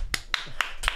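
One person claps four crisp, close hand claps at an even, moderate pace, each sharp and distinct against a quiet background.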